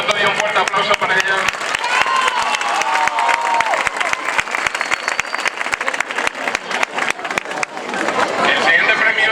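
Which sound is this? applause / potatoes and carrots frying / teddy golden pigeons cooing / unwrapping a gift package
applause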